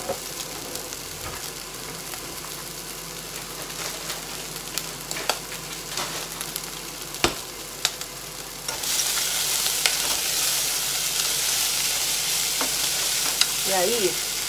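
Peas and carrots frying in a pan for fried rice, a close steady sizzle with scattered clicks of stirring that swells into a louder, hissier fry after more goes in.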